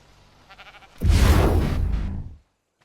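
An Ovis sheep in the video game Ark Survival Evolved lets out a single loud, drawn-out bleat lasting over a second, after a few faint sounds.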